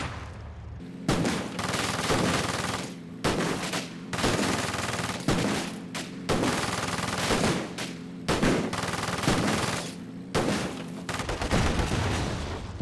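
A T70 tank firing at a building in Company of Heroes 2, with a run of loud, regular bursts of shots and booms separated by brief pauses, close and heavy.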